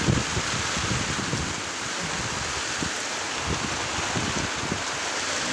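Wind and rain lash a fishing boat at sea off Ujung Kulon during a west-wind storm, a steady, loud broadband roar with irregular gusts and thumps from waves or the hull, continuous throughout with no talking.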